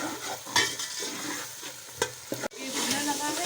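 Washed green peas fry in a pan for matar chawal, sizzling steadily while a spoon stirs and scrapes through them in several sharp strokes, close and clear.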